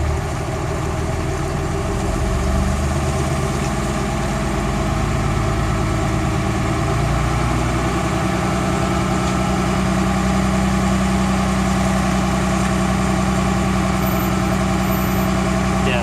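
A Cummins diesel truck engine runs at a steady, even idle with a deep, continuous rumble and mechanical clatter, loud and close for the whole stretch, its tone shifting slightly partway through.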